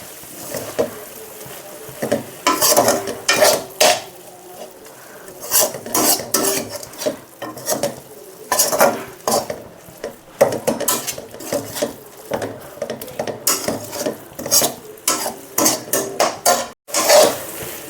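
Raw coconut paste is stirred into an amaranth curry in a pan, with repeated loud scraping and knocking strokes of a spoon against the metal in an uneven rhythm over a faint sizzle.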